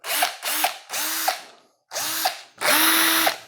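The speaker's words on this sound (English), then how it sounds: "then of course you need a drill" An electric drill whirring in five short bursts, each revving up and winding down, loud and close with brief gaps between.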